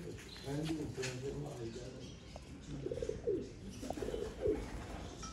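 Pigeons in a loft, a breeding pair of teddy pigeons among them, giving soft low cooing calls, faint against steady background noise.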